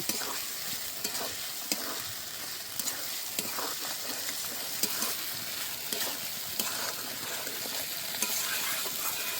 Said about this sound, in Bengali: এবার সেদ্ধ করা সয়াবিনগুলো দিয়ে দেব। আবারও ভালো করে কষে নেব।